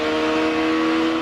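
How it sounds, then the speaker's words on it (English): IndyCar engine at the 2004 Suntrust Indy Challenge, a loud, steady high-revving drone with strong harmonics, close and alone as the driver gets back on the throttle. "You can hear how gingerly he gets back on the throttle coming out of the turns."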